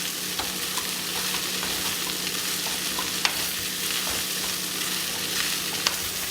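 Idli pieces and vegetables stir-fry in a pan, a dense continuous sizzle with faint stirring taps and occasional sharp pops, close and steady throughout.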